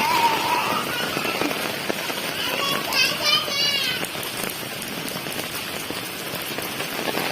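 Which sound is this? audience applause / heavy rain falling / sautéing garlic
heavy rain falling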